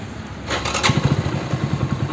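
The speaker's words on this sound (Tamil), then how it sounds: "இப்போ நம்ம பைக்கை மறுபடியும் சாவி ஆஃப் பண்ணிட்டு ஸ்டார்ட் பண்ணி பார்ப்போம்" A motorcycle engine is started again with the key after a fault was cleared using an OBD2 scanner. A quiet moment gives way to the engine catching, then a close, steady, rumbling idle.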